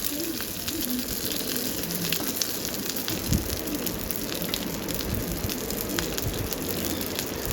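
Dried kurdai sauté in a pan with a dense, even crackle like rain, loud and constant with one soft knock midway.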